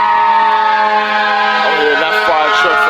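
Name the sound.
fire truck siren in the distance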